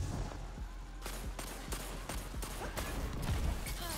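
Martyr's Retribution thermite grenade launcher in Destiny 2 PvP firing repeatedly, with sharp, loud shots at irregular intervals over constant loud battle noise.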